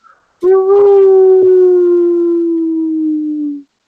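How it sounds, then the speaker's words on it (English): A single long wolf howl close by, a clear sustained tone that swells, holds and slowly slides down in pitch for about three seconds before stopping abruptly. "you hear a wolf howl"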